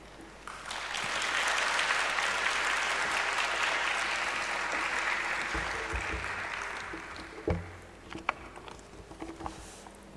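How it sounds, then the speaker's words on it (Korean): Congregation applause welcoming a pastor at a Korean church worship service, swelling to a broad, steady clapping that tapers off after several seconds into a few scattered thumps and small noises. "박수로 영접하고 한번 환영해 주시겠습니다."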